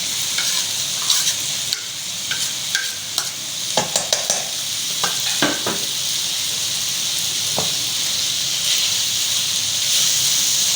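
Chicken stirred into a hot pan with stock, carrots and capsicum, a steady sizzling hiss broken by repeated clinks and scrapes of a spoon against the pan, close and clear with no talking.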